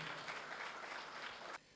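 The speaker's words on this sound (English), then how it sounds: "A round of applause, ladies and gentlemen" Applause at the SHE Awards Gambia 2022 ceremony, a soft, fairly distant patter of many hands that carries on steadily and then cuts off abruptly near the end.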